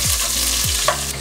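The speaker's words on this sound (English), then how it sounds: "Let's saute the bawang. Then, sunod natin tong sibuyas." Garlic and onion sizzle steadily in a hot pan while being sautéed for pakbet, a continuous close frying hiss with a few scraping stirs of the spatula.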